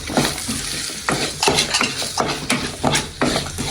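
Spices frying and being stirred in a pan for goat leg soup: close, repeated scraping strokes of a utensil against the pan over a steady sizzle, in an uneven rhythm with no talking.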